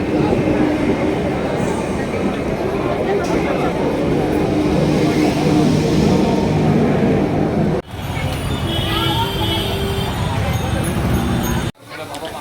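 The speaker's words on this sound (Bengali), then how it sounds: "ট্রেন আসছে, দেখুন" A train rumbles past a busy railway crossing near a Shiva temple, filling the scene with a loud, continuous roar of wheels and carriages that briefly cuts off twice.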